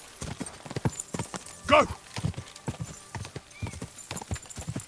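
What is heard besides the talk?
horse galloping in a video game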